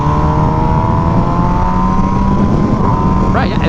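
An MV Agusta Brutale motorcycle with a stock exhaust runs at steady speed while being ridden, a loud, continuous engine drone with a slight pitch climb and no talk over it.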